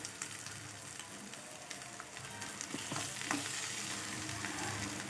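Potato samosa filling with salt and spices being stirred in a hot pan, a steady soft sizzle with scraping stir sounds throughout, close and fairly quiet, no voices.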